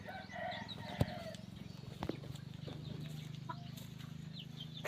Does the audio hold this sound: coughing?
no